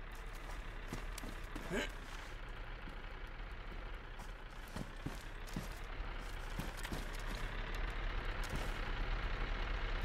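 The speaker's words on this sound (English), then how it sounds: "I hear a car." Car engine humming steadily in the survival video game DayZ, a low rumble that slowly builds over about ten seconds amid game ambience, with a few clicks and muffled talk.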